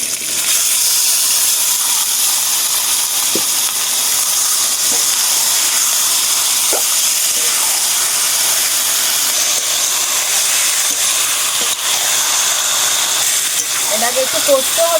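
Chicken meat added to hot oil in a pan for a thin potato curry gives a continuous loud sizzling hiss that holds steadily throughout, with a few faint clinks in the background.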